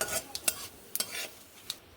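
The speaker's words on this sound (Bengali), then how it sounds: "ফোড়নগুলো ভালোভাবে এভাবে ভেজে নেব দশ সেকেন্ড" Dried red chillies, bay leaf and whole cumin frying briefly in hot oil, with a soft sizzle and a few sharp clinks of a spatula stirring the pan, close and fairly quiet.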